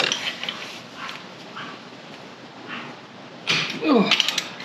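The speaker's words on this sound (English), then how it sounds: "it just uses a 3/8 inch drive to take off. So I've just got my 3/8 inch ratchet with an extension on it." A 3/8 inch ratchet with an extension turns on a Jeep differential drain plug, giving soft repeated mechanical clicks and creaks up close, louder near the end.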